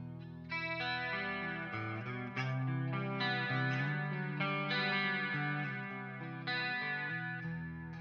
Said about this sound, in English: So a nice reverb and chorus.